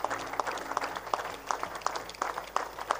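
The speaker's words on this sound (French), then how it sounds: "Continue à acclamer." A congregation at an evangelistic service claps in a steady, rhythmic beat of regular sharp pulses, moderately distant and fairly faint, with a voice occasionally heard over it.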